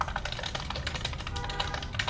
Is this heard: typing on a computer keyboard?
yes